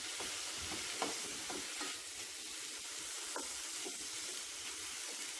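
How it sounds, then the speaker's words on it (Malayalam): Chopped tomatoes are stirred into a sizzling base for creamy egg curry, a soft continuous fry hiss broken by occasional light scrapes of a spoon, fairly quiet and with no voices. "നമുക്കിതിലേക്ക് കട്ട് ചെയ്ത് വെച്ചിരിക്കുന്ന തക്കാളി ചേർത്ത് കൊടുക്കാം. നല്ലതുപോലെ മിക്സ് ചെയ്യാം."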